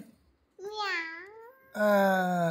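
A voice imitates a cat with two drawn-out, high, nasal meows, a rising-falling one followed by a louder, steadier one.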